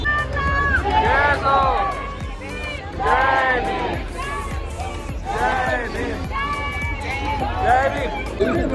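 A large crowd at a night celebration in Amravati for Ambedkar Jayanti fills the air with overlapping voices and calls, a dense continuous hubbub with some louder shouts rising above it.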